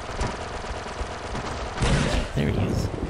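Turret gunfire roars in the video game Star Wars: Republic Commando, a dense, loud, sustained barrage that swells heavier near the end, with voices talking underneath.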